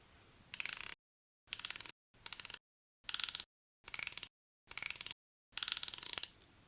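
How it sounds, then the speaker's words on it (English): The rotating bezel of a Tag Heuer Solargraph Aquaracer Professional 200 solar quartz watch ratchets in seven quick bursts of crisp clicks, close and clear, separated by short silences. "The bezel also has a nice smooth tactile action when turning it. The 60 clicks are solid with a nice audible sound."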